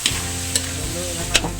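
Pork meat frying in a pan for fresh pancit, a steady close sizzle broken by a few sharp utensil scrapes and clicks as it is stirred, with no talking.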